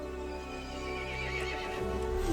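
A horse in Resident Evil Village whinnies in a drawn-out neigh over a low steady background hum, with faint hoof clip-clops underneath.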